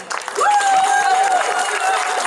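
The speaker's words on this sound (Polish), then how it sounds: "Wielkie brawa dla Zbyszka" Scattered audience clapping at an amateur theatre show during a parish picnic, building quickly and continuing steadily under a sustained tone, moderately loud and close.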